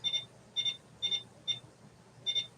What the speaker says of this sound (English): Okay, so 2 beeps is fast,